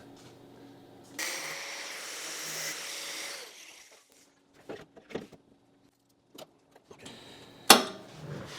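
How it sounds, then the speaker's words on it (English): Grinding on a metal fender patch for a 1994 Mazda MX5 Miata gives a loud, harsh burst of about two seconds, followed by quiet taps and handling noises and one sharp knock near the end. "So I'm going to grind this a little bit."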